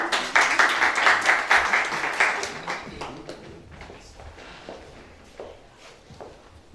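Crowd applause, dense clapping strongest at the start and gradually thinning out over several seconds.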